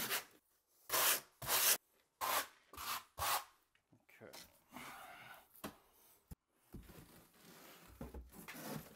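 A trowel spreads thinset mortar across a shower wall in short, separate rasping scrapes, a quick run of strokes followed by softer, smeared scraping, close up.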